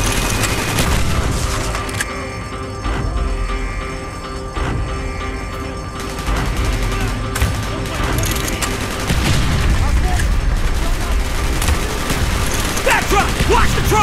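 Heavy gunfire in the video game Call of Duty Black Ops, with sustained automatic bursts and booming blasts layered over battle noise, loud and continuous throughout.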